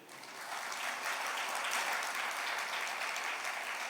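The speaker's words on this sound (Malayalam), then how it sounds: "ഒന്ന് കൈയടിച്ച്" An audience claps together during a religious talk, the applause swelling after a quieter start and holding steady and full throughout.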